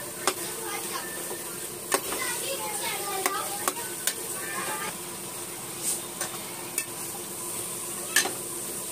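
Tomatoes and green chillies frying in a pan, a steady sizzle broken by sharp scraping clicks from a spoon stirring against the metal, close and moderately quiet.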